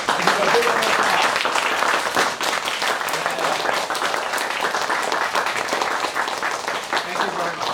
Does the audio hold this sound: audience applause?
yes